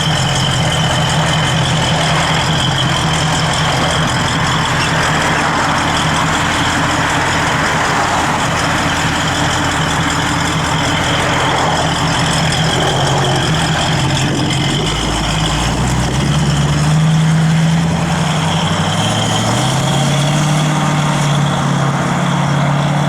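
A 1966 Ford Mustang's engine idles steadily and fairly loud for the whole stretch, a deep continuous rumble with a slight shift in pitch near the end and no talking over it.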